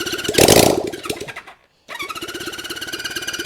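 A 1972 Honda CB350 Four motorcycle engine cranks and sputters as it tries to start, a loud raspy rev that drops to silence, then catches again into an uneven rapid running putter.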